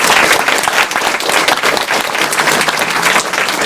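Sustained applause from a convention audience at the close of the Awesome Games Done Quick 2013 speedrunning marathon, loud and dense throughout, with a few faint voices mixed into the crowd.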